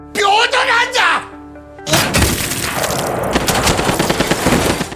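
Heavy gunfire rings out in a film scene of villagers shooting at police: after a stretch of speech, a loud sustained barrage of rapid overlapping shots and impacts bursts in and continues.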